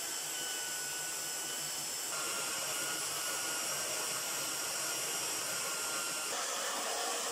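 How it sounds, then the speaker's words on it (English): A palm sander works over boat parts during a Pocketship boat build, giving a steady, close, continuous whirring drone that grows slightly louder partway through, with no talk. "And the palm sander."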